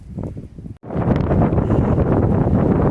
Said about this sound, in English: This is the wind that I've been dealing with all day.